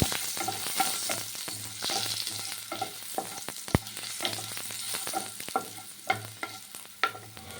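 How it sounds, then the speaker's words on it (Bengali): Cut potato pieces fry in hot oil with panch phoron in a wok, a steady sizzle broken by repeated scraping stirs and sharp clacks of a spatula against the metal. "এটাকে ভাজতে হবে হালকা লাল করে"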